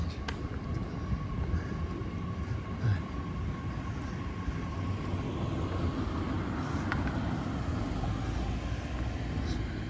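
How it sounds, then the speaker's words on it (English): Steady rumbling roar of a local train arriving nearby at night in Iwaki, a continuous dense noise with faint squeals and clanks over it. "local train just arrived."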